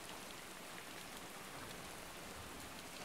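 Rain falls in a steady, dense patter, an even close-up wash of drops hitting a surface without pause or voices.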